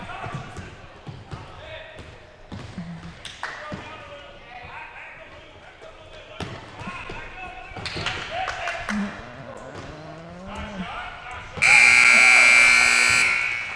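A loud, sustained electronic buzzer ends a period at a junior varsity basketball game, sounding after stretches of crowd noise, sneaker squeaks and announcer talk.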